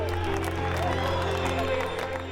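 A crowd of 55,000 cheers Mario Andretti's IndyCar race win, a broad, distant roar of applause and cheering over a steady low hum, holding even throughout.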